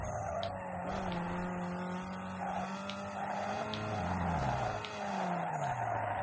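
A car skids in Need for Speed Underground 2, with tires squealing over a continuous engine drone that rises and falls across the whole stretch, and no one speaks.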